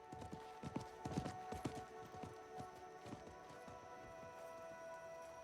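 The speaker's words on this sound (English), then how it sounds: "I think that was the merchant's horse." Horse hooves clip-clop in an uneven rhythm, bunching up early then thinning out, over a steady tonal background hum.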